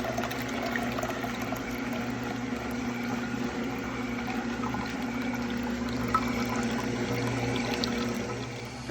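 Liquid juice, partly defrosted from refrozen chunks, poured steadily from a container for the first day of a juice fast; a continuous close watery stream with a low hum beneath, no talking.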